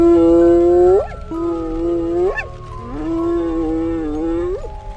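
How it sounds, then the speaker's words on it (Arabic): African hyena calling, a series of loud close rising whooping cries, each swooping upward in pitch, heard alone. "الصوت ده هو صوت الضبع الافريقي"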